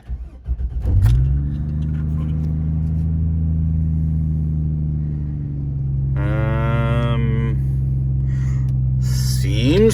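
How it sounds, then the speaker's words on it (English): A 2005 Chevy Trailblazer engine with a misfire cranks and catches about a second in, then settles into a steady low idle that runs on; a few short bursts of higher-pitched sound break in near the end. "let's start the engine"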